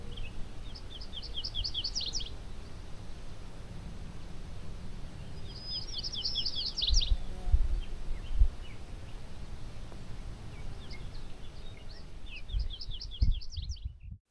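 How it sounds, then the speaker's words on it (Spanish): Many birds sing at once along a private rural road, overlapping chirps and trills recurring in bursts throughout, moderately near, with faint low rumble and a few thumps beneath. "hay una gran cantidad de pájaros"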